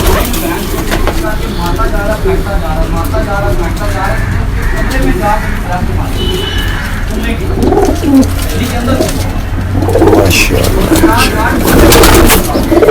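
A pigeon coos softly in repeated low calls against a noisy outdoor background, with louder clattering and bursts of noise toward the end.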